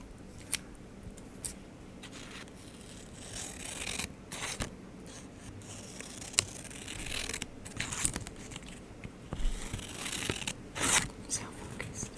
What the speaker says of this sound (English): I cut up all that trash.